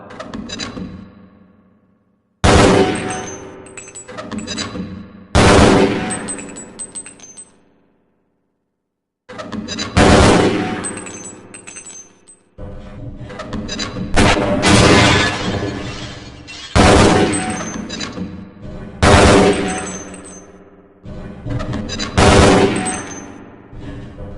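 Weapon fire rings out at training targets on a range in Half-Life: Blue Shift, with repeated loud bursts of gunfire and shattering impacts in several volleys separated by short silences.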